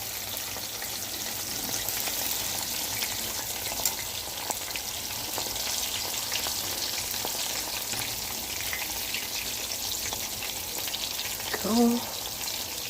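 Chicken fingers fry in a cast iron pan with a steady, close sizzle and crackle throughout, one brief clatter of turning or handling near the end.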